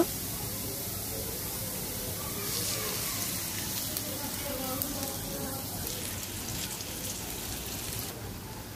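Onions sizzle and crackle steadily in a hot wok for shrimp bhuna, a continuous frying hiss with no talking.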